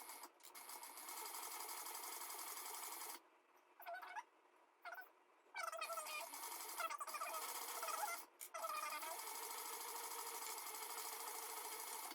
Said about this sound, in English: now I'm just going to sew all the way down this edge at a 1/4 inch seam allowance